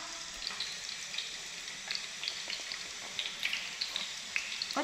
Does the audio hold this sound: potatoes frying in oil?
yes